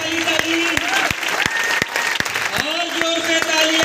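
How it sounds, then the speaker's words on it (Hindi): An audience claps through a training session in a hall, with dense, continuous applause close by and a voice calling out over the clapping. "जबरदस्त ताली बजते रहनी चाहिए भाई, धमाकेदार तबाही वाली ताली"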